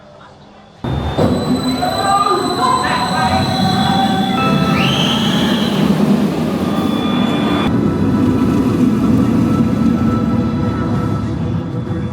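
Mandrill Mayhem roller coaster train at Chessington World of Adventures rumbles steadily along its track with rising metallic wheel squeals and whines, a constant loud mechanical roar filling the whole stretch.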